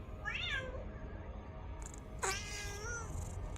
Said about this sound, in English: here's the cat